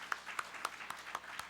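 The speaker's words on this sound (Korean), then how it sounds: "자축하는 의미에서 다시 한번 뜨거운 박수 좀 부탁드리겠습니다." Audience applause at the founding general assembly of a provincial residents' autonomy association, roughly 400 to 500 attendees; a sparse, fairly faint round of claps with a few sharper individual hits standing out at a steady spaced rhythm.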